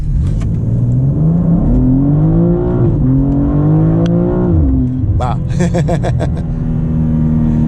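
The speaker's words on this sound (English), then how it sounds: "We'll get a chance to do another acceleration here." A 2025 BMW M2, rear-wheel drive, pulls away hard from a stop with a rising engine note climbing through the gears, heard from inside the cabin, with a brief exclamation from an occupant partway through.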